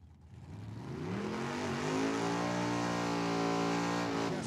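A Chevrolet Vega and an S10 pickup truck launch off the line at Tucson Dragway, loud engines climbing in pitch together as they accelerate hard and hold a sustained roar, close and dominant without talk.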